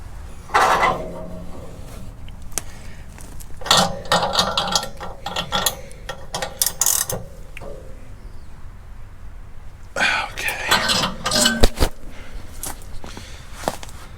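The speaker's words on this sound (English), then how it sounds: "Let's get this spring tightened back up and give it a few throws." A sporting clays trap machine being cocked and thrown on its spring, heard up close as bursts of metallic clanks, ratcheting and sharp mechanical snaps separated by quieter gaps.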